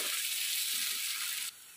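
Chopped onions fry in a pan with a steady, bright sizzle that holds for most of the moment, then drops abruptly to a quieter hiss near the end.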